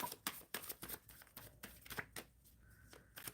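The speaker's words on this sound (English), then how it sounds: "I'm shuffling for Irfan about life in general" Tarot cards are shuffled close up in quick, crisp riffling bursts, a rapid run of sharp flicks and slaps that slows toward the end, with no talking.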